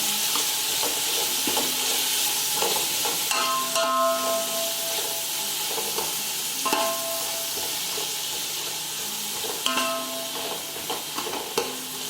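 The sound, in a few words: tomatoes added and frying in a pan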